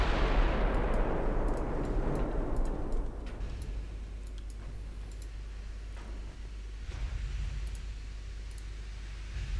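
Naval guns firing high-explosive shells in a 1920s-era multiplayer battle in Ultimate Admiral Dreadnoughts, with a heavy booming roar at the start that rolls into a low sustained rumble and scattered faint ticking reports.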